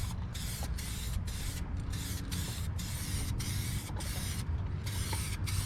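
A spray gun lays heavy coats of paint on a 2006 Ford F350, a loud, continuous hiss broken by brief regular pauses between passes, heard up close.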